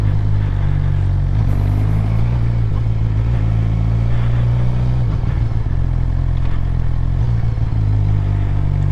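A motorcycle engine drones loud and continuous while ridden slowly in first gear, a deep steady rumble with slight rises and dips in revs and no voices.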